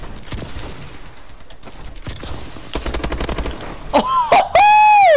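A favourite campaign gun from the game Advanced Warfare fires in close, rapid bursts of automatic gunfire that stutter in and out. Rising electronic whines and a loud tone take over near the end, and a voice briefly exclaims.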